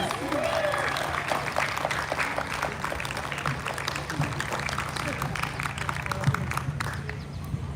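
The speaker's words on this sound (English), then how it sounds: "If we could give them a round of applause" An audience at a tribute event applauds steadily, a dense wash of many hands clapping at moderate distance, with a low hum and some crowd murmur underneath throughout.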